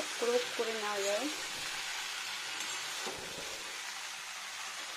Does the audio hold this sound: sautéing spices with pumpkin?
yes